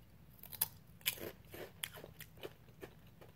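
Crunchy Buffalo-flavor Bugles corn snacks bitten and chewed close up, a quick series of sharp, faint crackling crunches spread over a few seconds with no talking.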